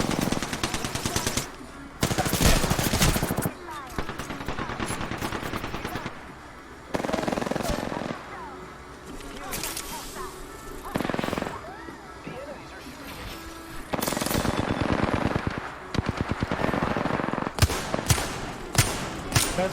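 Bursts of rapid automatic gunfire from an Xbox shooter game come in several loud volleys separated by quieter stretches, with a player's voice talking over the action.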